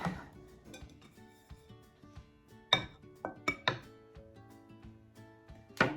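Broccoli soup being spooned up and plated, heard as a run of sharp metal-on-ceramic clinks and taps from a spoon and dishes, irregular and close, with quiet gaps between the knocks and no voices.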